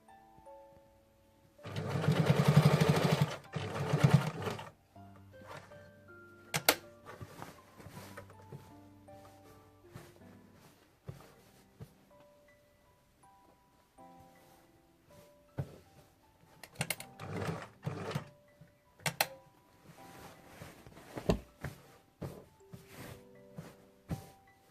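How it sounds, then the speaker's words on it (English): A sewing machine stitches Ankara and lace fabric for a party gown, with a loud run of rapid stitching near the start, then scattered shorter bursts and handling clicks, fairly quiet overall. "I'm going to sew it down on top this material here."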